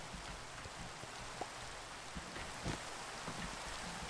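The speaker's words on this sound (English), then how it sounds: "is there anywhere on this snowy mountain I can stand where I don't have to hear the rain?" Rain falls steadily on a snowy mountain in Minecraft, a soft, faint, even patter with scattered drops and no voices.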